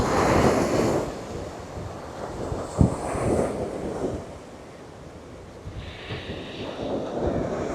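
Ocean waves wash onto an eroding shoreline at Kalmunai, a broad rushing surf with strong wind buffeting the microphone, swelling and easing over several seconds with no talk.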